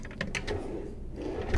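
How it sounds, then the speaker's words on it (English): A drawer on a Riviera SUV 505 motor yacht slides open or shut, a short muffled wooden rumble with a few light knocks, close by and fairly quiet. "we've got drawers down underneath"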